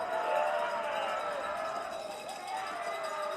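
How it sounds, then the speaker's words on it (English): Crowd at a boys lacrosse game at Bella Vista, a steady wash of cheering and chatter from the stands, moderately distant and continuous under an announcer's voice. "now the crowd getting into it here as we get the second half underway here at Bella Vista"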